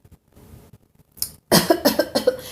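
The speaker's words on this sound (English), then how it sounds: "I don't know what the cough is for." A single cough during a tarot reading, a brief throat sound followed by a louder burst of several close, rough coughs, near and fairly loud against a quiet room.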